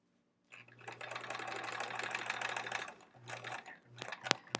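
A sewing machine stitches quilt pieces for an improv-pieced quilt back, running close and clear in a sustained burst of about two seconds, then shorter stop-start runs with clicks.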